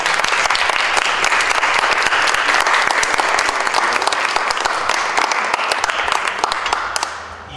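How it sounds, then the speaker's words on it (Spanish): Sustained applause from an audience at a formal academic ceremony honoring a special professorship, dense steady clapping filling the room for several seconds before tapering off at the end. "quiero pedirles que le demos un fuerte aplauso"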